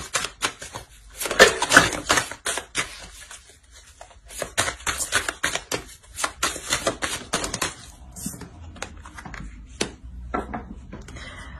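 Oracle cards drawn from a deck and laid down during a Taurus tarot-style reading, heard as a string of close, crisp paper snaps and shuffling taps in irregular bursts, with no talking.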